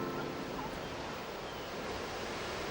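Water rushing in as waves in a Teletubbies episode, a steady broad surging wash like surf, moderately loud and unbroken, with no speech over it.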